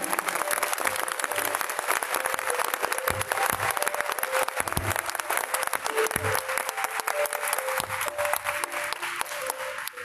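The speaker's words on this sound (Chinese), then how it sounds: "我们要用我们最大的掌声邀请我们的韩国瑜市长上台" An audience at a Kaohsiung press event applauds to welcome Mayor Han Kuo-yu to the stage, dense sustained clapping from a sizeable crowd lasting the whole stretch, loud and even.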